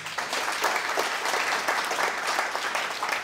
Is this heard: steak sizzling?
no